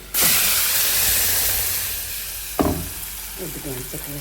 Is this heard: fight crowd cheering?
no